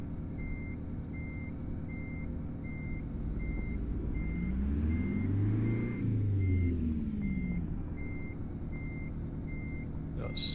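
Reversing alarm beeps in American Truck Simulator, a steady evenly spaced electronic beep repeating throughout over a continuous low diesel engine rumble that swells as the truck backs toward a frac tank.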